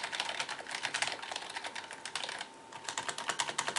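Rapid, continuous typing on a Logitech G19 gaming keyboard, dense clicky keystrokes close up with a brief lull partway through, no voices.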